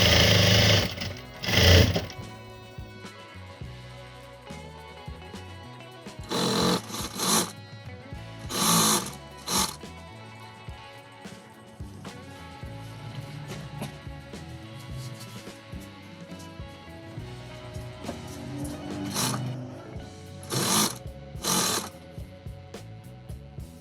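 A sewing machine runs in several bursts, stitching a strip of folded cloth for lace edging; loud whirring runs alternate with quieter pauses and handling, with no talk.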